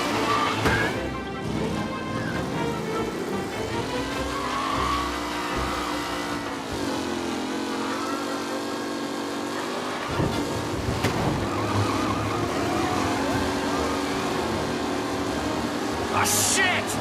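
Race cars engines roar and rev continuously as a race starts in Mafia Definitive Edition, a steady loud motor drone with shifting pitch and a crash-like burst near the end, game commentary mixed underneath.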